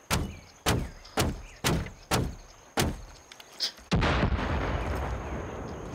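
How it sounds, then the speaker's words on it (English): Explosions in Far Cry 5 gameplay: a run of six or seven sharp, booming blasts at a steady pace, then a brief lull before a heavier, longer rumbling burst that carries on to the end. "What the heck exploded?"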